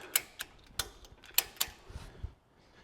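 Jack working against a Jeep Gladiator's rear trailer hitch, giving a series of sharp, quiet clicks and ratcheting ticks at an uneven pace, with faint mechanical creaks between them.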